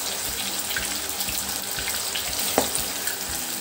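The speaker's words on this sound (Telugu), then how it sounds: "ముందుగా ఆరబెట్టుకున్న మసూర్ దాల్ వేసి ఫ్రై చేసుకోవాలండి" Whole masoor dal frying in hot oil, a steady broadband sizzle and hiss with a brief crackling pop partway through, close and fairly loud throughout.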